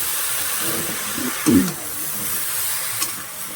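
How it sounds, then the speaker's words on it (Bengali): Eggplant and potato sauté in a pan with a constant hiss of frying, while a spoon scrapes and stirs in a brief thicker burst midway. Near and fairly loud. "এবার বেগুন আলুটা ঢেলে দিয়ে এটাকে ভালো করে আমার কষাই করতে হবে"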